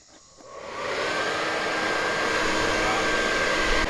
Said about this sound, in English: I'm going to do a little test with the blower motor here, see how loud it is without anything attached to it.